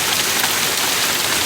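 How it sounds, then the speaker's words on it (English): Heavy rain pours outside in hot weather, a dense and loud steady hiss of drops hitting surfaces close by, with no voices. "But now I want to go run out in the rain."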